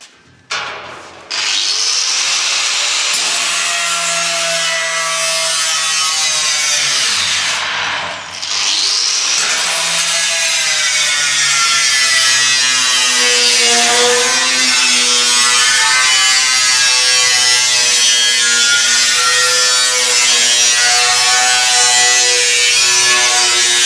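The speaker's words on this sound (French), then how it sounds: "on va prendre la disqueuse et puis on va découper sur le traçage qu'on a fait" An angle grinder cuts along a traced line on a sheet metal barrel, a loud, continuous high-pitched whine with a wavering rasp that runs almost without a break, dipping briefly once near the start.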